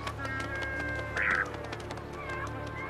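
Flightless steamer duck in the Falkland Islands giving a brief, fairly faint call over steady background noise.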